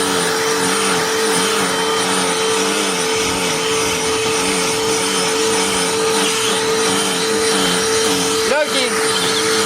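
A Black+Decker Dustbuster Furbuster AdvancedClean+ cordless pet handheld vacuum runs steadily and loud, holding a constant close motor whine with a brief bump near the end.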